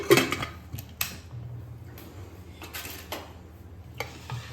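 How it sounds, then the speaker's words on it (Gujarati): Metal lid of a pressure cooker holding potatoes and two glasses of water is set on and locked shut, giving a few quiet, separate clanks and clicks spread over a few seconds in a home kitchen. "ત્યારબાદ આપણે કુકરનું ઢાંકણ બંધ કરી દઈશું"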